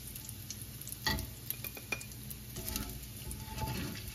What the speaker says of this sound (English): We're gonna take this out with a slotted spoon